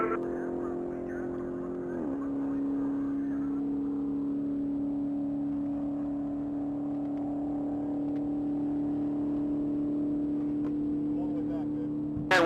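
A Dodge Hellcat roars at top speed through the mile speed trap at a Texas Mile top-speed racing event, a steady engine drone holding a single sustained pitch for the whole stretch, with a brief pitch shift early on.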